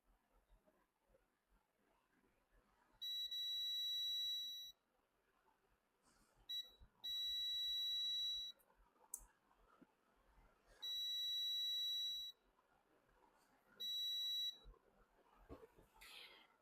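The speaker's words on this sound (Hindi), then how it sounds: "ये बक कॉइल, ये भी बीप दे रहा है" A digital multimeter gives four loud, steady continuity beeps, each about a second long, while a buck converter coil on an electronics circuit board is tested. Faint handling noises fill the gaps between the tones.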